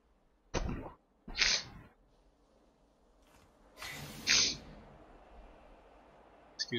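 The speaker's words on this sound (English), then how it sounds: "Excuse me, just sneezed." A person's sneeze during a late-night game stream, a sharp burst followed by a second one, then a louder sneeze-like blast a few seconds later, close and fairly loud against a quiet room.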